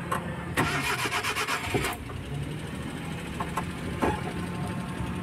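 A Suzuki DA63 engine with a check engine light on is cranked and started, giving a rapid chattering starter burst followed by a quieter, uneven idle with a few faint clicks.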